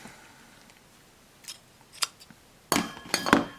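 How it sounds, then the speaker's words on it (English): Scissors cut through a felted crochet vine with a few crisp, close snips, growing louder toward the end after faint handling noises. "so I just cut the vine"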